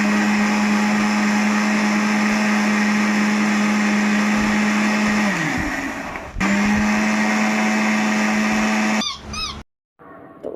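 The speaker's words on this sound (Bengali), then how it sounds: "তো চলো মিক্সারটা করে নিই" A kitchen mixer grinder blending sherbet whirs loudly with a steady motor hum, stops briefly, starts again, then winds down to silence near the end.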